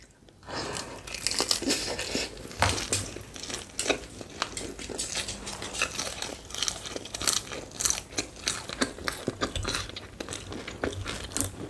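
Mandu dumplings being eaten up close, with repeated bites, wet chewing and crunchy crackles, plus occasional clinks of utensils on dishes, steady and loud throughout with no talking.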